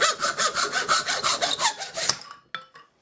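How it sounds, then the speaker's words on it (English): Rapid rhythmic rasping strokes as a piece of spatula is cut and ground down during a Bach trumpet restoration, close and steady for about two seconds before stopping, followed by a couple of small knocks. "Now I'm going to cut and grind this down so that it fits in there."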